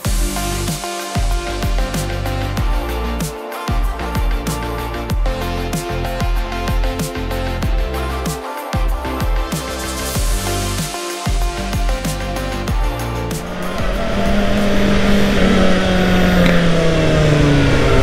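A Kawasaki Ninja ZX-4RR motorcycle rides along a road, its engine running loud and steady with a continuous droning roar and brief dips, then rising in pitch as it accelerates near the end.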